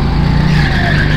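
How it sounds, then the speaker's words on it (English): A go-kart slides through a corner on the track, its tires squealing in a sustained rising screech over the buzzing kart engine, loud and close. "oh, a big drift, we're good"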